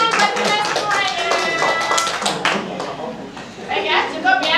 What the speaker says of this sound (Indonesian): terima kasih tepuk tangan buat kita semuanya